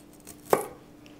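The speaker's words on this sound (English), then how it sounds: "Now with the broccoli, we'll just cut it about" One crisp knife chop through broccoli on a cutting board, a single close thud standing alone over a quiet room hum.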